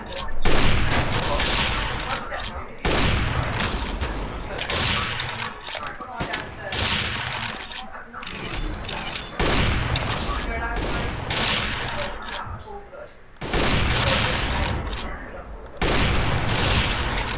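Heavy gunfire rattles through a 1v1 video game match in long, loud bursts with short gaps between them, and excited voices talk over it.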